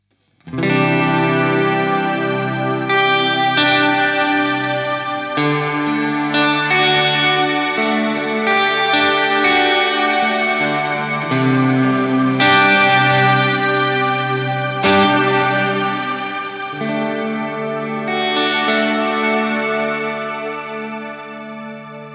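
A Mad Professor Kosmos pedal on its shimmer reverb setting 2 turns a played guitar into a lush, sustained wash with bright octave-shimmer tails, continuous chords blending for over twenty seconds, no voices.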